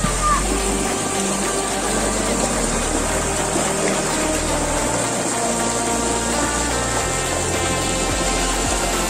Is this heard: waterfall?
yes